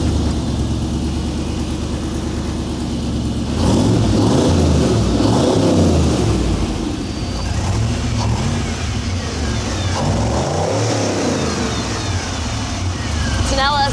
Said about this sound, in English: flip the switches, and hit the key to hear it all fire up.